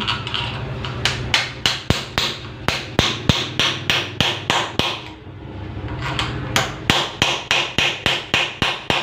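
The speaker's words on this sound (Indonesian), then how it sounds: "Terus kita ketok pakai ini, pakai pen seperti ini." A pin tapping a bushing into a Honda Megapro rear shock, a steady series of sharp metallic hammer taps in quick rhythm with a brief pause midway, close and loud.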